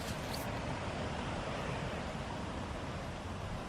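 Wind blowing outdoors on a beach, a faint, steady broadband rush with a soft surf-like quality and no talking.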